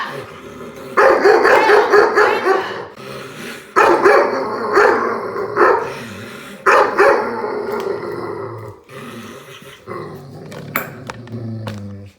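A dog barks in several loud, harsh bursts separated by short pauses, with some growling and whimpering between them, close to the microphone.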